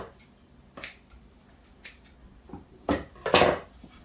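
Kitchen cooking cord is snipped while tying a beef pot roast: soft ticks and rustles lead to two crisp, close scissor cuts near the end.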